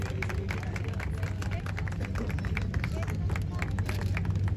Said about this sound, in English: Wow, big round of applause. Can we clap and